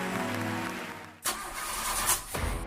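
A car engine cranks and stutters without catching, a whirring starter grinding for a second, then a sharp burst and further uneven churning cranks, loud and close with no voices.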